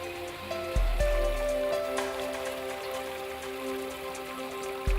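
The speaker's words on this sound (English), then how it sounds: "a dramatic waterfall." A dramatic landscape waterfall feature pours steadily, a dense continuous splashing wash of water that stays even and fairly close throughout, with a faint low tone running underneath and no voices.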